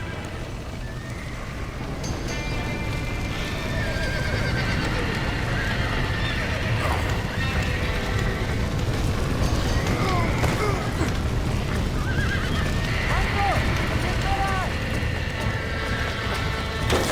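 Horses neigh and whinny over hoofbeats and a crackling fire in Red Dead Redemption, the whinnies rising repeatedly through a dense, busy scene with distant voices underneath.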